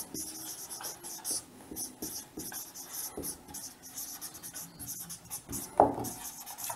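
Chalk or marker writing on a board during a chemistry lesson, a run of scratchy strokes and taps of moderate loudness, with one sharper knock near the end and no talking.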